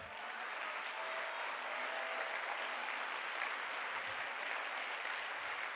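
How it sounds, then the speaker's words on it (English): A church congregation claps their hands in worship, a broad, even wash of many hands at once, sustained and moderately distant without pauses. "Let's clap our hands under the Lord right now."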